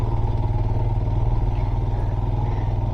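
A motorcycle engine labors up a steep off-road mountain road under construction, a steady close, rhythmic low thrum with faint clatter.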